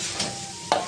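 Crabs frying in a pan give a brief, steady hiss of sizzling oil, with a soft stirring scrape near the end.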